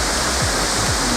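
A waterfall rushes in a continuous, loud, broadband roar, close and steady throughout with no talking.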